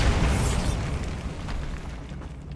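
Bombarda spell blast in Hogwarts Legacy, a loud deep explosive boom that rumbles and slowly fades over a couple of seconds, with a sharp pop at the very end.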